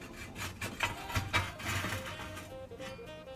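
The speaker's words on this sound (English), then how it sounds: "we're going to start by grabbing our ash and coal shovel, and we're going to lay it inside the caddy and just pull the whole thing across" An ash and coal shovel scrapes and drags coals across the deck of a Bull outdoor pizza oven, giving a close series of gritty rasping strokes and clinks.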